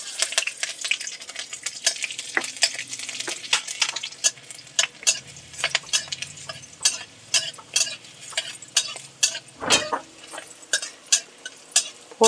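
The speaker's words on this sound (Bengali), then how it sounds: "তেল গরম হয়ে এসছে, লঙ্কা দুটো দিয়ে দিচ্ছি। এবার রসুন কুচিটাও দিয়ে দিচ্ছি।" Two chilies and chopped garlic fry in hot oil as a tempering, with a steady sizzle broken by sharp clicks and scrapes of stirring and one louder burst near the end; nobody speaks.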